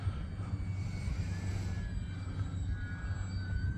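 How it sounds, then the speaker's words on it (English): RC model Bearcat airplane with newly fixed retractable landing gear flying past, a steady distant engine drone holding for a few seconds with a faint pitch shift, no voices. "this airplane is so much fun, and I'm so glad that I got those retracts fixed"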